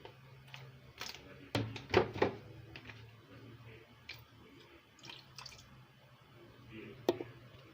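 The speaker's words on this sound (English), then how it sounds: "I'm rinsing this with water." Water splashes, drips and squishes as a bowl is rinsed while Nigerian pancake batter is being made in a home kitchen, with a few sharper splashes among softer trickling sounds.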